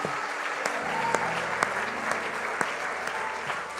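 Congregation applause during a church sermon, a steady broad clapping wash from a crowd with a few sharper claps standing out, while sustained tones continue underneath.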